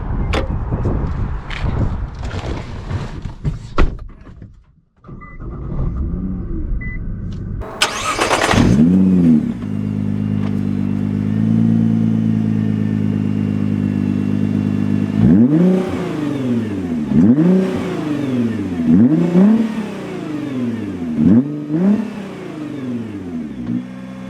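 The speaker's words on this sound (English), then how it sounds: "Now let's go and drive the GT-R." Nissan GT-R engine starting after a door thunk, then idling and revving in repeated rising surges as the car accelerates, loud and close with no talking.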